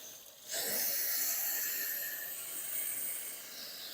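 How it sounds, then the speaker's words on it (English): Water pours steadily into a garden sprayer tank as granular prodiamine pre-emergent herbicide is dumped in, a close, broad hissing rush that starts abruptly and holds for several seconds. "we're going to add a little water as I dump this"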